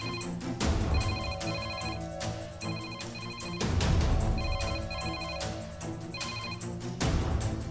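A telephone rings in a home in a Hindi TV serial, a repeating electronic ringtone pattern sounding steadily and loudly through the whole stretch with no talking over it.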